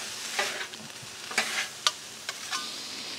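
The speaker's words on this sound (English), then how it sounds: "So there's our garlic and ginger." Garlic and ginger sizzle on a Blackstone griddle, a soft continuous frying hiss broken by several sharp scraping and stirring clicks, fairly quiet and without any talk.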